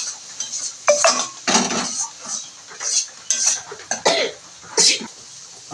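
A spoon stirs dry chili powder, cumin, turmeric and salt in a cooking pan, making close, loud metallic scrapes and clinks in short irregular bursts with brief pauses between them.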